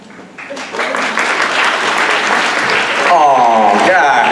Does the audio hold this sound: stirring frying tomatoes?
no